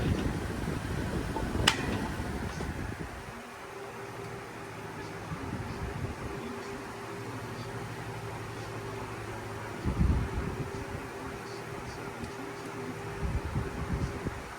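A steady mechanical hum of a small vintage 1971 Galaxy desk fan running continuously, with a faint periodic shift as it oscillates back and forth and a brief click early on.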